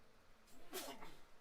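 A single short sneeze, fairly quiet and close, with a soft breathy burst and a brief nasal tail.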